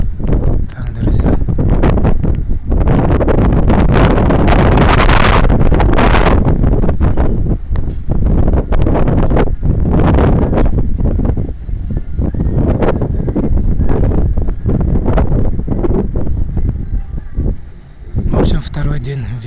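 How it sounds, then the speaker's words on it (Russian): Strong wind in Novorossiysk roars steadily and close, buffeting the microphone with a heavy low rumble and surging gusts throughout, easing briefly near the end. "Второй день ветер."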